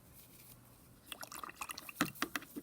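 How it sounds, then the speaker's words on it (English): A paintbrush is rinsed in a small container of water. After a quiet start there are quick, close splashes, drips and swishes, and the sound is quiet and intimate. "Cleaning off my paintbrush, wiping it dry."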